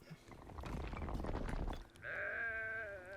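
A sheep in the cozy building game Tiny Glade lets out one drawn-out, wavering bleat near the end, after a stretch of soft rustling and shuffling game ambience.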